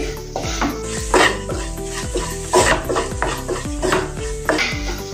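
A spoon stirs ridge gourd and potato curry with salt in a pan, scraping in repeated strokes about once a second over a low sizzle, with clinks of utensil on metal.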